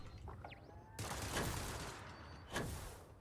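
A security system in the video game Starfield opens fire with sustained bursts of automatic gunfire, two loud rattling volleys close by, over a quiet game backdrop with a faint voice beforehand.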